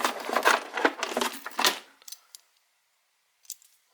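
Keys jangle and clatter while being pulled from a Harley Davidson FLH saddlebag, a burst of close metallic rattling for about two seconds, then a few faint clinks.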